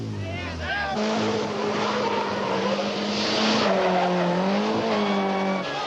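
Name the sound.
cars skidding in 360-degree spins at street race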